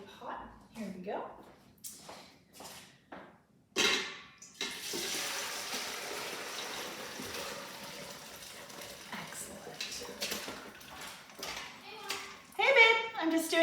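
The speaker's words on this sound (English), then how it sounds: "So I'm gonna put it through the strainer." Oxtail soup pours from a heavy pot through a strainer, a steady splashing liquid stream lasting several seconds, with someone talking before and clattering toward the end.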